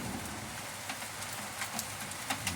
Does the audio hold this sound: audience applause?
no